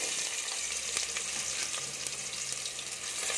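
Onions frying in oil in a cooking pot give a steady, dense sizzle with faint stirring noises, close and continuous throughout, with no voices.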